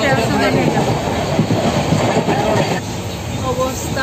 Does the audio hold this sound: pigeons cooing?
no